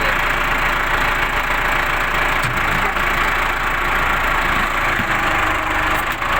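A Case 695 tractor engine idles steadily just after a hydraulic pump replacement, a continuous loud mechanical drone with constant rumble and broadband clatter throughout, no speech.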